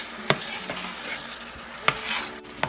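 Vegetables sizzle in a pan while a coriander, mint, coconut, chili, cashew and poppy seed paste is stirred in, with a few sharp scraping strokes over a steady low fizz.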